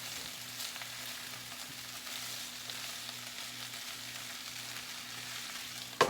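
Sliced potatoes and green beans fry in a pan with a steady, even sizzle that holds throughout, plus a brief utensil clink right at the end.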